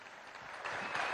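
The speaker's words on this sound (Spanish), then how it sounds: "Vamos a darle la bienvenida con un fuerte aplauso al presidente obrero Nicolás Maduro Moros" Audience applause welcoming a speaker at a PSUV party meeting for primary election candidates: a soft, distant patter of clapping that swells slightly toward the end.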